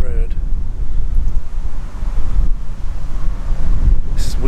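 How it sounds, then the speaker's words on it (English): Heavy wind buffets the microphone outdoors by a road in a steady, low rumbling roar, with gusts and a brief crackle near the end. "So it's actually quite windy."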